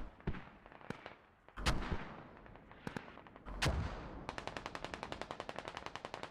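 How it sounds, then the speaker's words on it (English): Mortar shells landing in the military shooter game Squad: several heavy, booming explosions with long rumbling tails, followed by a fast, steady burst of rapid gunfire. "I'm just interested in seeing where these mortars fall"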